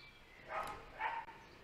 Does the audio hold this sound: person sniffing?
no